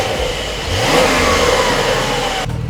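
A Porsche 911 GTS (992) engine with stock exhaust revs up and holds a steady roar before cutting back to a low idle, close and loud.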